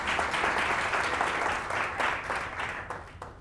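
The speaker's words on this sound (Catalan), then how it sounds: "Un aplaudiment, no?" An audience claps steadily throughout, a dense wash of applause that tapers slightly toward the end, at a televised school quiz show.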